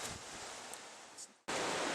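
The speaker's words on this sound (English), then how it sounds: "Very windy, isn't it?" Wind buffets the microphone while fishing out on the water, a steady rushing noise that drops briefly and then surges back in a louder gust.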